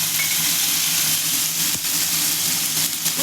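Tomatoes and green chillies frying in hot oil with nigella seeds, a loud, steady sizzle throughout with a brief stir or clatter, no talking.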